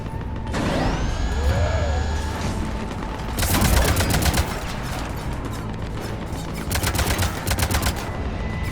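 Spaceship cannons fire in the Mass Effect video game, a loud sustained barrage of rapid, rattling machine-gun-like bursts over a dense mechanical roar, with sweeping whines early on.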